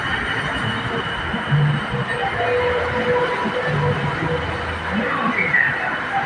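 A BTS Skytrain EMU on the Silom line rumbles steadily and loudly at Saphan Taksin station's platform, bound for Bang Na, with the constant drone of the train filling the scene.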